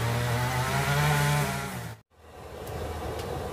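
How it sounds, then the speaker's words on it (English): A lawn mower runs nearby as the lawn is mowed, a loud, steady engine drone that cuts out abruptly, then a fainter, rougher engine hum resumes after a brief gap. "And now they're mowing the lawn too."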